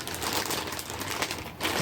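Plastic bag packaging around a vintage Superhuman Samurai Syber-Squad figure crinkles during unboxing, giving close, dense, irregular rustling with small sharp crackles across the short clip.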